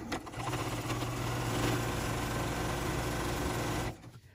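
A sewing machine stitches quilt binding on a log cabin table runner, running as a steady, continuous mechanical whir for about four seconds before stopping, with no talk.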